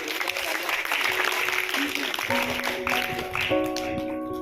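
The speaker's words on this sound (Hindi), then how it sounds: "ताली बजाओ बेटा उनके लिए।" Applause from students at a camp gathering for two joint first-place finishers, a short burst of steady clapping mixed with crowd murmur and a few tonal background sounds.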